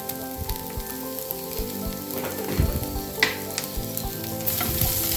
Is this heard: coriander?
yes